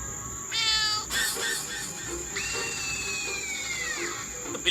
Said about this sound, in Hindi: तो बिल्ली की आवाज कहाँ से है?